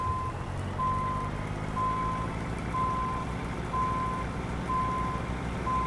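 A truck's backup alarm in American Truck Simulator beeps steadily about once a second, seven evenly spaced tones over a constant low diesel idle and rain-like hiss.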